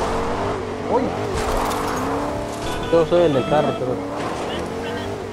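Car engine droning steadily in Fortnite, a continuous motor hum running the whole time beneath talk and laughter from players in the foreground.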